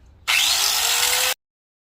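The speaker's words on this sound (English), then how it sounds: "If y'all plan on cutting fiberglass or sanding fiberglass" A power tool whines loudly for about a second with a harsh, gritty grinding as it cuts or sands fiberglass overfenders for a Mazda Miata, starting and stopping abruptly.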